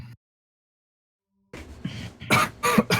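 A person with a bad cough coughs in a few sharp, close bursts after a moment of silence, with some murmured vocal sounds between them.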